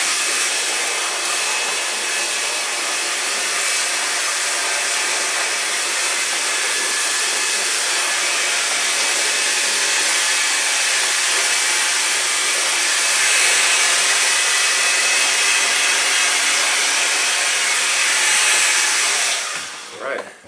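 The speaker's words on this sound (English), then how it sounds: "You really feel the texture in his hair, that styling cream as well as you're blow drying it in." A barber's handheld hair dryer blows steadily on a client's hair worked with styling cream, a loud, continuous whooshing hiss that runs unbroken for about twenty seconds before cutting off at the end.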